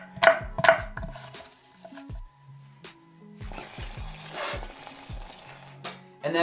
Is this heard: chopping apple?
yes